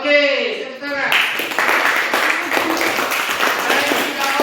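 Classroom clapping from a group of students fills the room after a short spoken line, a dense, steady patter of many hands that continues without a break to the end.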